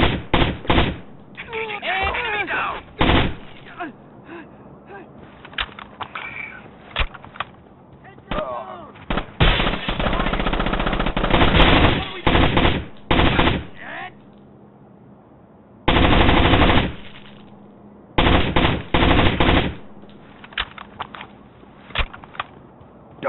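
Gunfire in the video game Rainbow Six Vegas 2, in loud bursts of automatic fire and single shots that start and stop between stretches of quiet, with a few voices heard now and then.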